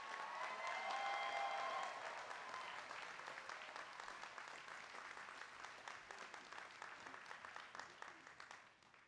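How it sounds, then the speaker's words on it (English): Sustained applause from an audience at a university degree ceremony, a broad clapping roar that gradually thins out into scattered individual claps near the end. "please give Kevin Gover another round of applause for an outstanding address yesterday"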